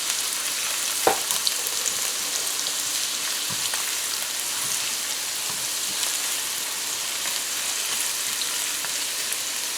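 Garlic frying with onions and carrot in a pan for Spanish rice, a steady broad sizzle running throughout with a few sharp pops and spatters near the start, no talking.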